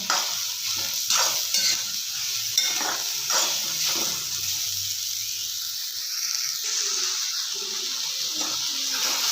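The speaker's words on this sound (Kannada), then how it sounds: "ಚೆನ್ನಾಗಿ ಹುರ್ಕೊಳ್ಳೋಣ" Ridge gourd palya frying in a pan as it is stirred, with a steady sizzle and repeated scraping strokes of the spoon against the pan, close and fairly loud, with no talking.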